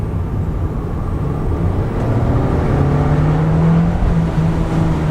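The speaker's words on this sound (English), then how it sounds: "you can really feel that turbo just spooling up and get me up and out of harm's way" A 2019 Volkswagen Jetta SEL Premium accelerates onto a highway, heard from inside the cabin: a steady engine drone whose pitch climbs as the turbo spools up, with road noise beneath and no talking.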